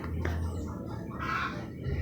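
A mother hen waiting for feed on a Philippine poultry farm gives a few soft, close clucks and squawks over a low steady background rumble.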